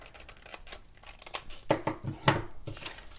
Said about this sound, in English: So go ahead and cut along the line.